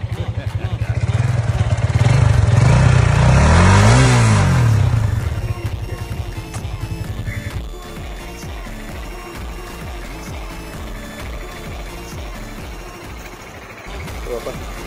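A motorcycle engine idling and revving up close, rising to a loud rev then settling into a rough, clattering idle, with some talk over it.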